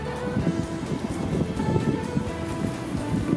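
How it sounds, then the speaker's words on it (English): Steady wind roars and buffets continuously, a dense, rumbling rush with no pauses and no voices. "It's so windy today, you guys. Can you hear it?"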